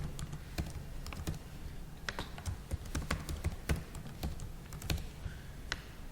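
Someone types a password on a computer keyboard, a brisk irregular run of close, crisp key clicks and taps with no speech.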